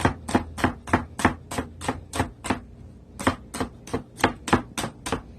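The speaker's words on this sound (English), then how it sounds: "rough chop your garlic" A knife rough-chops garlic on a cutting board for a Jamaican curry scallops dish, a close, crisp run of evenly spaced taps at about three per second, with a short pause midway before the chopping resumes.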